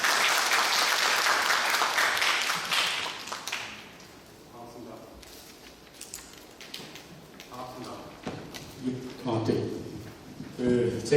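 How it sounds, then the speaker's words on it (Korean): An audience claps to welcome a speaker at a legislative training lecture, a loud burst of applause that fades after a few seconds, followed by scattered taps and bumps as someone moves about. "큰 박수로 맞이해 주시면 감사드리겠습니다"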